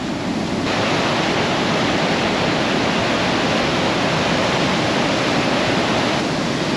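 A loud, steady rush of falling water roars continuously, broadband and unbroken, close to Bow Glacier Falls.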